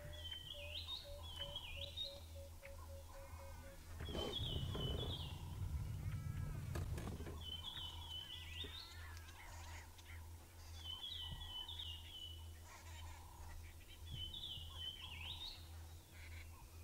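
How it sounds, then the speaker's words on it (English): A faint summer sunrise dawn chorus of several birds chirping and trilling in repeated phrases at a distance, briefly swamped by a rush of wind-like noise. "Isn't this the most beautiful dawn chorus?"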